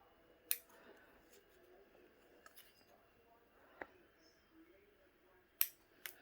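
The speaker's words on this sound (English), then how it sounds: "it should just be a tiny little snip right in the corners" Scissors snip the corners of fabric while a zipper pocket with an overlay is sewn: a few crisp, isolated snips spaced seconds apart, close and quiet against a soft room background.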